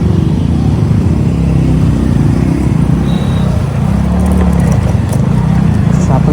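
Busy road traffic with cars and motorcycles passing close by, a steady loud engine rumble running throughout with no break, with people talking over it.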